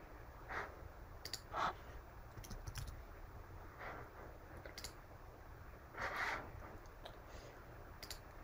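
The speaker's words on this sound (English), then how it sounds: "Quickly clicking on save here" Quick mouse clicks at a computer while working in API testing software, a few sharp faint clicks spread across a quiet room background with no talking.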